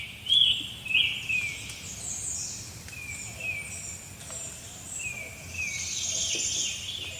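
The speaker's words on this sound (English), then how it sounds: "just laying here, listening to the beautiful birds singing their beautiful songs" Morning birdsong on the Appalachian Trail in Connecticut: several high chirps and short warbling calls, moderately distant, over a soft steady background hiss of insects.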